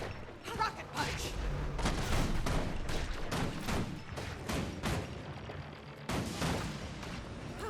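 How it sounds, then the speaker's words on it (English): Rocket punch attacks in Guild Wars 2 go off as a dense string of loud, booming blasts and impacts, firing in quick succession with barely a pause. "Rocket punch!"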